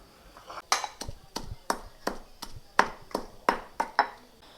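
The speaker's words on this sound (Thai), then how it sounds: "ตำส่วนผสมทั้งหมดให้เข้ากันนะคะ นี่ค่ะตำให้ละเอียดเลยนะคะ" A pestle pounds rice field crab dip ingredients in a mortar, about a dozen sharp thuds in an uneven rhythm, close and fairly faint.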